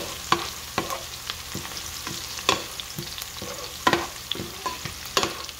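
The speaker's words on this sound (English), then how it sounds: "And into this oil, into this, I'm gonna be putting in my sausage" Sausage hits hot oil in a pan, giving a steady sizzle broken by sharp stirring clatters and scrapes, close up and without talk.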